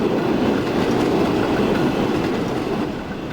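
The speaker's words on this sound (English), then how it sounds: "Here comes one of those trains. There we go. Flying Scotsman. Flying Scotsman. Passing its way through." Flying Scotsman steam train rolling past on a rail line in Transport Fever 2, a steady dense rumble of wheels and carriages heard close and loud throughout, easing off slightly at the end, with no talking.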